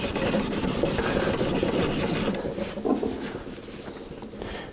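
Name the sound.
honing spokeshave blade on extra fine sharpening stone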